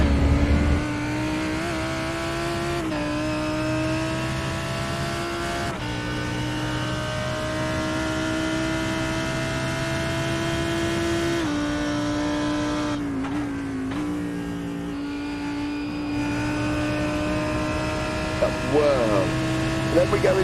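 Lamborghini GT3 race car engine in a racing video game at Road Atlanta, a steady high droning engine tone with slight pitch shifts through gear changes, heard alongside talking.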